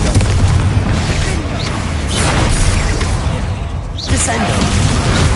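Confringo fire spell exploding in Hogwarts Legacy, booming blasts and whooshes layered in loud, continuous battle noise against a troll, with a voice calling out.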